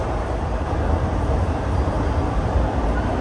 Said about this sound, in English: 1 second for the train